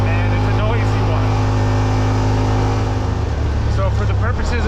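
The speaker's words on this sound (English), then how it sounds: "I'm going to try and slow down a little bit so that the engine noise isn't in our way." A Yamaha RMAX2 1000 side-by-side drones loudly and steadily while driving, a strong engine hum that slightly drops in pitch near the end, with someone talking over it.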